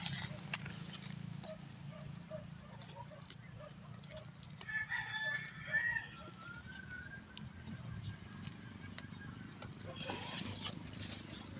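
Rhode Island Red hens cluck and call in grassy ground where they lay eggs. The bird sounds are soft and scattered over a low outdoor hum, with a person talking quietly nearby.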